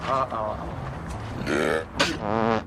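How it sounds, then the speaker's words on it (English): A man gives a throaty burp mixed with a snort, a short rough gurgle close to the microphone, set between bits of his own talking over a loud background. "I got a burp snort coming"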